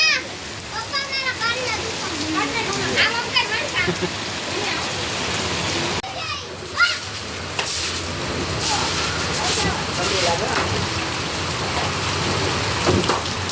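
Heavy first monsoon rain pours down steadily outdoors, a dense close hiss of water landing on surfaces throughout, with people talking and calling out over it.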